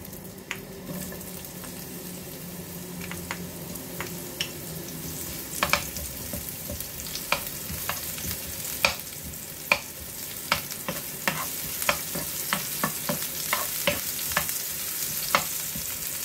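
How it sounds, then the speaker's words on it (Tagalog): Onion fries in a hot pan with a steady sizzle, broken by scattered sharp pops and crackles that grow more frequent over time; no talking. "ilagay muna natin yung sibuyas"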